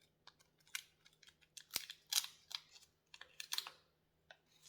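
Chinese hard candy wrapped in edible paper is unwrapped close by, giving faint, irregular crinkles and small crackling snaps in quick bursts with short pauses between them.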